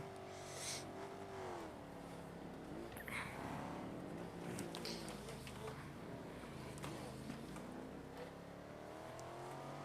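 A video game car races through the mountains of Italy, driven with a racing wheel. Its engine drones continuously, rising and falling in pitch with faint scrapes and knocks.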